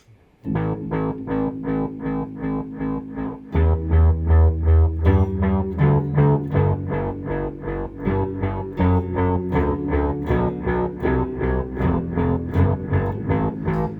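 A Boss SY-1 guitar synthesizer plays a rhythmic run of notes through a delay effect, each repeating and trailing off in echoing delay, steady and loud throughout.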